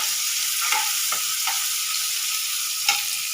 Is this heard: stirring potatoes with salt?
yes